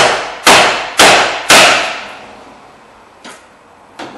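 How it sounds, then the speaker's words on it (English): A hammer strikes a steel steering knuckle on a GM car to pop a tie rod end loose: three loud, sharp metallic blows about half a second apart, then two fainter hits after a pause, each ringing briefly. "So we're just going to hit it here a couple of times and we'll have it pop loose."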